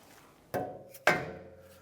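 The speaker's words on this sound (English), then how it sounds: "we're going to try a rubber hammer on top" Two sharp rubber hammer blows on an inner tie rod of a 2007-2013 Acura MDX, each a close, dull metallic knock with a short ringing decay, about half a second apart.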